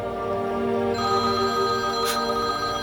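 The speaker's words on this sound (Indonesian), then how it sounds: "Echa pun menerima telepon dari Ariel" A telephone rings in a film scene, steady tonal ringing that holds at moderate level for a few seconds, a short bright burst near the end, with no speech over it.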